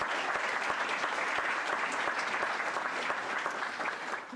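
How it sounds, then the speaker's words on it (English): Steady applause from a crowd at a city council meeting, dense clapping that holds level throughout and tapers slightly at the end. "A nice round of applause to welcome them here this evening."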